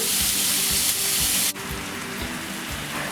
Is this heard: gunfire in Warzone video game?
no